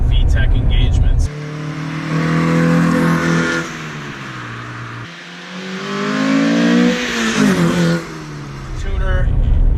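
A tuned Honda Civic Si engine revs repeatedly, its pitch climbing and dropping in two or three pulls with a sharper, harder note as VTEC engages, loud and close, with a voice heard at the start and end.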